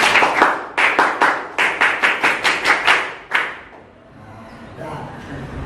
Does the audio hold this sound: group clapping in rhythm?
yes